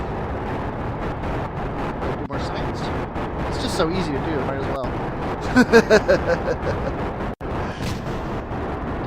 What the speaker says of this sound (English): Ignore those explosions. They scared me too